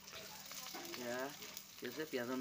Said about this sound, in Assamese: এয়া তেল অলৰেডি কেৰাহীত দিয়া হৈছে পিঁয়াজ দি আছে পিঁয়াজৰ পাত